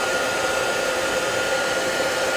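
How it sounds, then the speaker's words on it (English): A hair dryer drying watercolor paint blows steadily at close range, a constant whirring roar of air with no pauses. "I'm gonna go ahead and use a hairdryer and dry this"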